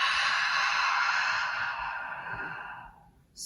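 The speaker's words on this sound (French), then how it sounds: "et expire tout par la bouche." A long, full exhale through the mouth during yoga practice, a breathy airy rush that fades gradually over about three seconds. It is close and alone, with no talking.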